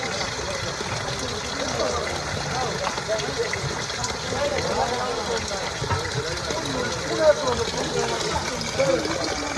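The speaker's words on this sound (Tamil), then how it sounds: "மூலிகை தண்ணின்னு சொல்கிறாங்க ஆனால் பைப்பில் வருது" Steady rushing water flows continuously from a pipe on Velliangiri hill, with a low mechanical hum beneath and faint voices in the background.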